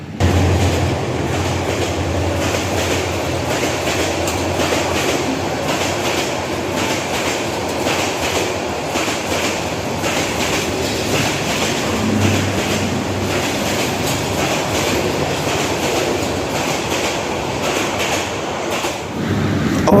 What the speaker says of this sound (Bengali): তিস্তা ট্রেন চলে আসলো। এটা আর কি এখানে আর কি ট্রেনটা থামায় না